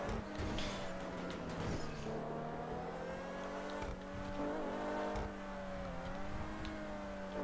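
A car engine in GTA 5 Online drones steadily throughout, its pitch rising and dipping with throttle changes and small gear shifts, loud and continuous with occasional tire noise and no talk.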